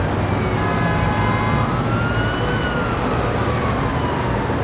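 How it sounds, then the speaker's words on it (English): Steady, dense New York City street roar with a siren wailing up and down in the distance, continuous throughout. "there is always honking, there are always sirens"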